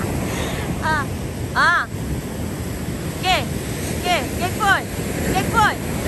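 Steady wind and breaking surf on a beach, with strong wind buffeting on the microphone, while birds call repeatedly and a person makes short vocal sounds over it.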